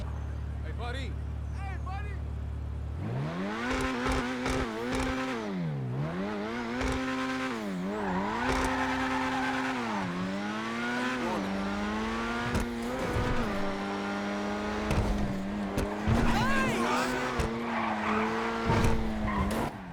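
A sports car engine in GTA 5 Online revs and shifts through gears, pitch sweeping up and down, with tire squeals, loud and continuous, alone without talk.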